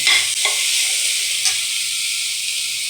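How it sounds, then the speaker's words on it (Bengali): Chopped tomato dropped into a hot frying pan with salt, setting off a loud, steady sizzle and hiss with a couple of brief stirring scrapes near the start. "আর এখানে আমি অর্ধেক টমেটো কুচি দিয়ে দিচ্ছি"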